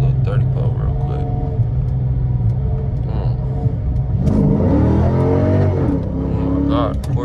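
AWD Dodge Charger R/T engine rising in pitch as it accelerates hard from a 30 mph roll, a loud steady drone that climbs through the gears, heard from inside the car with a voice speaking over it.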